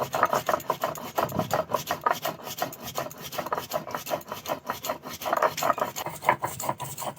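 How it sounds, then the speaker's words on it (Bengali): Poppy seeds ground into a paste with a little water on a stone, a steady rhythmic rasping and rubbing, close and continuous, back and forth without pause. "পোস্তটা এরকমভাবে অল্প জল দিয়ে একইভাবে বেটে নেব।"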